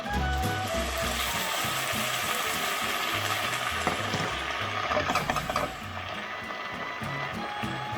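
Greens wilting down in a pan with some pasta cooking water added: a continuous loud sizzle and bubbling with stirring scrapes and clicks throughout, steady and close, no voices.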